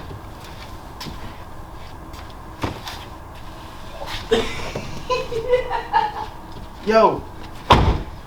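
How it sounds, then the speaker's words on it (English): An SUV door opens and shuts with a couple of solid thuds, amid people talking and laughing nearby. "just open the door."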